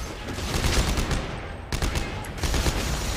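Rapid gunfire in Dead Space 3, loud dense bursts of shots rattling continuously with short pauses between volleys, no speech over it.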